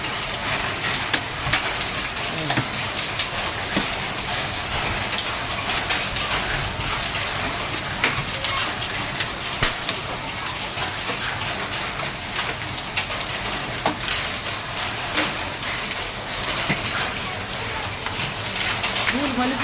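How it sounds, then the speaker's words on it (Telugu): A hailstorm in Hyderabad pours down as a dense, steady roar of hailstones and rain drumming on surfaces, with scattered sharper ice impacts throughout and nothing else standing out. "వాన పడ్డట్లేదు, వడగొళ్ళు పడుతుంది"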